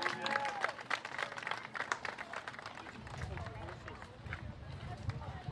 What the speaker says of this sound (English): But let's give a round of applause for Cody Rackow on this season.